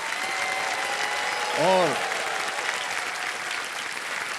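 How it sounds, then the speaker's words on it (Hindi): Studio audience applause on a Hindi quiz show, a steady, loud wash of clapping throughout, with a brief host voice and a short tonal sting partway through. "तालियां बज जाएं इनके लिए"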